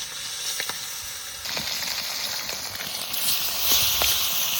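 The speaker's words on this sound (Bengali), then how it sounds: "মাছ বেশি কড়া ভাজা দেবো না, হালকা করে ভেজে নেবো" Small freshwater fish lightly frying in a pan for a sour fish dish, a soft continuous sizzle and hiss close by, rising slightly toward the end, with a few faint clicks and no talking.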